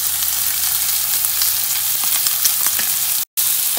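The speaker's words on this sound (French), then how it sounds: "on tourne les bardes de lard. Les bardes de lard vont continuer à cuire" Strips of bacon fry in a pan, giving a steady close sizzle and crackle with a brief break near the end.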